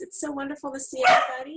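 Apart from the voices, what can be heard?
dog barking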